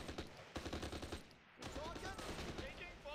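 Rapid bursts of machine-gun and rifle fire from the WWII strategy game Close Combat: The Longest Day, loud and dense, with a short lull in the middle before the shooting resumes.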